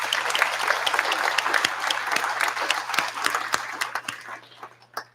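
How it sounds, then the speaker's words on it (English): An audience at a nonprofit fundraiser gives a round of applause, dense clapping with sharp individual claps standing out, tapering off at the end, over a low steady hum. "So a round of applause for Dana."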